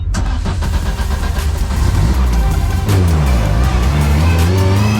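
Race car engine in a racing video game on the formation lap: a loud, continuous engine drone with rising and falling rev sweeps, heard alone without speech.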